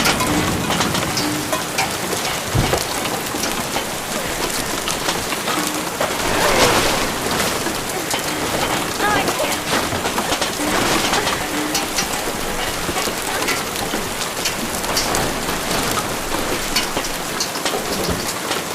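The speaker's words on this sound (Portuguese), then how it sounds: "Tá chovendo de novo." Steady, heavy rain falling, a continuous hiss of drops with occasional louder splashes and brief swells, no voices.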